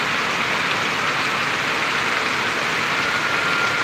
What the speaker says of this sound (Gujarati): સરસ મજાનો વરસાદ આજે પડી રહ્યો છે